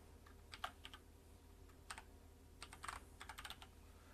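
Keystrokes on a computer keyboard, typed while recording a macro in gaming peripheral software, come as short, fairly quiet bursts of clicks with gaps between them over a low steady hum.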